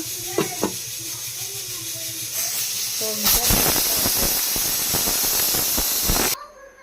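A pressure cooker cooking chicken fry lets off a loud, sustained steamy hiss for about three seconds before cutting off sharply, preceded by quieter kitchen sounds and a voice.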